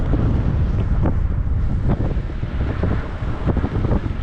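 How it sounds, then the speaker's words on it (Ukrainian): Strong wind roars and buffets the microphone continuously on a road near Hamarnia village, Cherkasy region, a loud rumbling rush with gusty swells and no speech. "Ну такий вітер неприємний"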